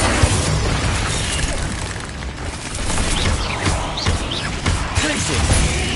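Confringo blasting spell explosions from the Hogwarts Legacy game played on PS5, a dense run of bursts and crashes over continuous game noise, with a voice talking through it.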